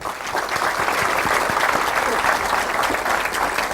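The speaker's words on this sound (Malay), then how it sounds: "Beri tepukan." Sustained, lively applause from a crowd at a religious talk held at a polytechnic. The hand claps are close and dense, with faint voices mixed into the clapping.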